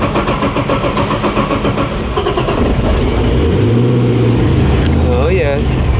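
A car engine turns over and catches, then settles into a loud, rumbling idle close by, with engine roar and a rising whine, while a person talks over it.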